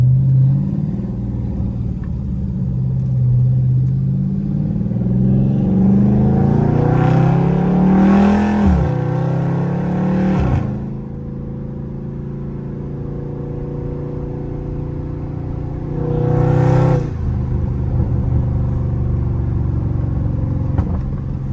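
A loud Scat Pack engine on a late-night drive rumbles and revs in long surges, with sharp bursts near the middle and again toward the end. Exhaust crackles may ride on the revs, and no one speaks.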